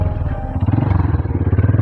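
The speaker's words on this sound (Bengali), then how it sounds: "এই যে আমাদের একজন বাইকার" A motorcycle rides past close by on a rough, broken rural road near Mayabi Lake in Sherpur, its engine putting out a steady, loud, rhythmic low thrum that swells slightly as it passes.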